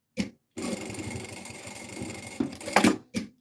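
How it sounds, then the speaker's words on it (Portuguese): Sewing machine stitching elastic onto a fabric passport holder, a steady whirring run of about two seconds with short bursts of stitching before and after, close and alone. "agora vou já passar aqui uma costura para segurar aqui o elástico"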